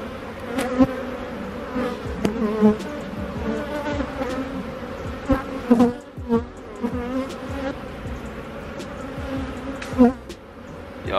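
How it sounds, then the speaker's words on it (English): Dense buzzing of many honeybees swarming close around an open hive with its top box removed, a steady hum rising and falling with sharper passes of individual bees near the microphone. "Ooh, there are a lot of bees in this hive."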